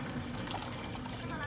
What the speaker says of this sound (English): So what I'm gonna do, I'm just gonna take it and put it in water.